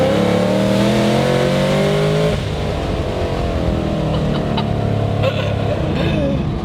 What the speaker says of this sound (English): At the very, very top, you get the supercharger whine.